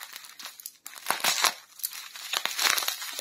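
Someone tears open a small plastic parcel bag holding an Avon Mother's Day order, a close run of crinkling and ripping plastic with short sharp tears and a brief pause early on.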